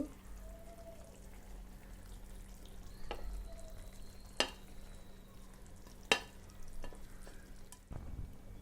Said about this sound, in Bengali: এবার মাছগুলো ছেড়ে দেব। মাছটা একটু লেগে গেছিল